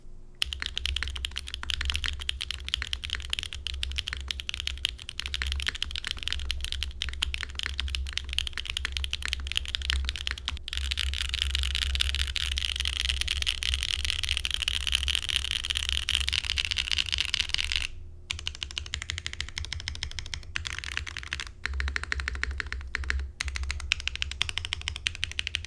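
Steady, fast typing on a Mode Sonnet keyboard with a full polycarbonate case, copper internal weight, top-mount PC plate, no foams and GMK keycaps. The clacks are close and continuous with a few short pauses.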